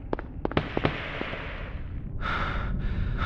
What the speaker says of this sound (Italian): Quelli erano rumori di arma da fuoco o sbaglio?